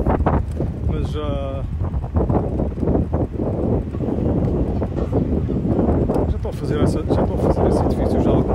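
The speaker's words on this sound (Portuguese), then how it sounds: "Vento, não é um vento fraco, é um vento assim meio entre o moderado" Moderate wind blowing outdoors buffets the microphone in a continuous loud roar, with a voice talking over it throughout.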